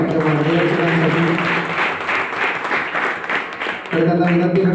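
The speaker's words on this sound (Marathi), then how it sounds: "एकदा जोरदार टाळ्या वाजल्या पाहिजेत आपल्या मार्गदर्शकांसाठी" An audience at a pakhawaj workshop gives its guides a short burst of applause, a dense wash of clapping that swells and then fades after about four seconds as a voice starts over the tail.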